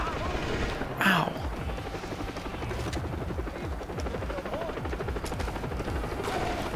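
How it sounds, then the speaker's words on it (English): Helicopter flying in the video game Far Cry, a steady rotor thrum running throughout alongside gunfire-like bursts, with a sharp loud burst near the start and people talking over the game audio. "Oh shit, that's a chopper."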